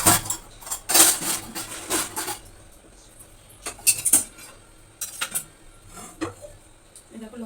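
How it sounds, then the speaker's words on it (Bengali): Brass kitchen utensils are moved aside, giving a burst of clinking and scraping, then scattered metallic knocks and clanks, close by with no talk. "ওদের বাসনগুলো আগে আমি সরিয়ে দিই।"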